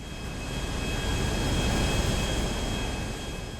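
A jet plane taking off in the video game GTA 5, a steady broadband engine roar with a thin high whine, swelling slightly mid-way and holding at moderate loudness.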